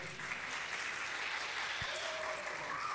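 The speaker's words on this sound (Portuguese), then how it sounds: "Diga amém e dê um aplauso ao Senhor." A church congregation applauds in a continuous, dense wash of clapping that stays even and moderately loud throughout, with no voices standing out.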